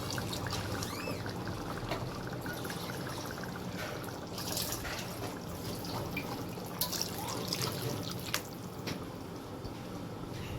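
Water is poured from a container into a cooking pot while making chicken shinwari, a steady trickling and splashing stream lasting several seconds at moderate volume, with no talking.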